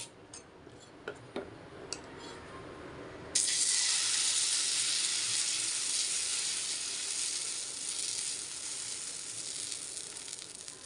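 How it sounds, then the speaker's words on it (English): A little oil hits a hot tawa and erupts into a loud, steady sizzle that holds for several seconds, preceded by a few sharp ticks in an otherwise quiet kitchen. "The tawa is hot. I'm putting little oil."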